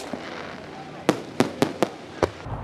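Shells from a fireworks show burst in a quick series of five or six sharp bangs over a windy outdoor rumble as a storm arrives.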